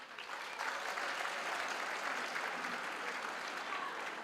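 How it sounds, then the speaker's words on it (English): An audience at a university graduation ceremony applauds the Butterworth Choir, a dense, even wash of clapping from a large crowd that holds steady for several seconds. "can we give a big round of applause for Butterworth Choir?"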